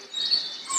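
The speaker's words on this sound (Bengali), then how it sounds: "দু একটা পাখির ডাকও শোনা যাইতেছে।" A few bird calls at dawn near a cremation ground, thin chirps close by and carrying alone with no voices.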